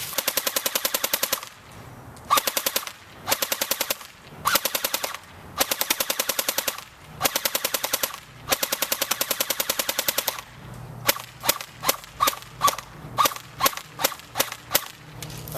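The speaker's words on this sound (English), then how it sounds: "I'm going to go test shoot it real quick just to make sure the rate of fire is good" An Ares airsoft LMG test-fired on a 7.4V 2200mAh battery, sustained full-auto bursts of about one to two seconds, then shorter quick bursts, mechanical and close, with no talk.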